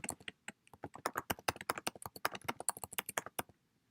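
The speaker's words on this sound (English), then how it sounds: "just start typing your message." Quick, irregular keystrokes clatter on a computer keyboard, close and steady for a few seconds before stopping.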